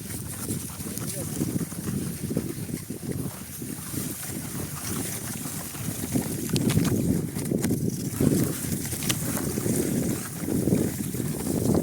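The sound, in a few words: wind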